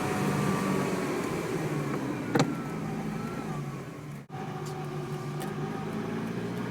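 A 1989 Ferrari 328 GTS drives along with a steady, fairly loud engine hum and road noise, interrupted by a brief sharp knock and a momentary dip in sound.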